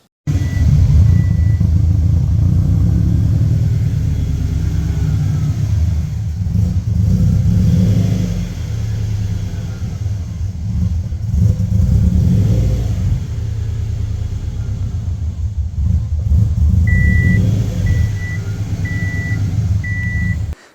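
A Subaru WRX engine with a leaking turbo inlet rumbles and revs in a loud, continuous drone with rising and falling throttle, while a steady electronic beep chirps intermittently in the background.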